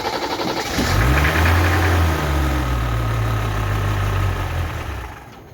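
An old abandoned military jeep engine tries to start, cranking and catching into a rough, uneven low rumble for several seconds, loud and close, before fading out.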